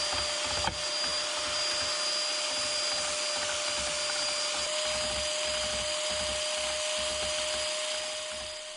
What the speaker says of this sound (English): So with that blue area scraped, now I'm going back over the entire surface of the straight edge and scraping everything.